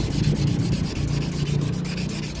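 Abrasive paper rubbing steadily across a Vauxhall Astra H plastic headlamp lens, a close, continuous scratchy sanding with quick back-and-forth strokes and no pauses.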